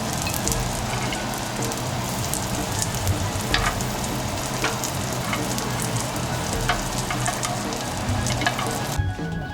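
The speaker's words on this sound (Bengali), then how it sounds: "তেলের ভিতরে থেকে তেলে আমরা পেঁয়াজটাকে ভেজে নেব।" Onions frying in hot oil for a beef steak sandwich give a steady, dense sizzle throughout, close and fairly loud, with faint clinks of stirring now and then and no voices.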